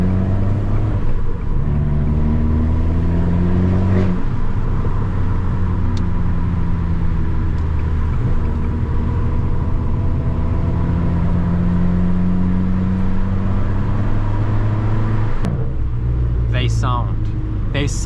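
A steady, low engine drone from a small 1.4-litre petrol car runs throughout, rough and tractor-like, with a brief change near the end as it shifts.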